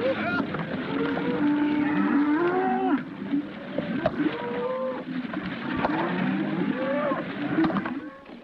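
Many cattle moo and low continuously, overlapping calls from a herd nearby, loud and steady throughout.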